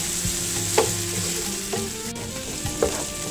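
Whole spices, cinnamon and cloves, fry in oil in a pan for oxtail soup, a steady close sizzle with a few stirring scrapes and clinks, no talking.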